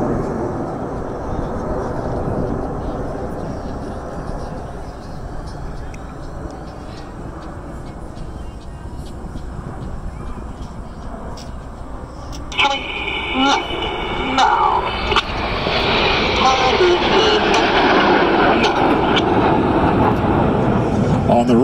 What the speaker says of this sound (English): There at the top of the loop, Red 1 has brought the aircraft into Signet formation.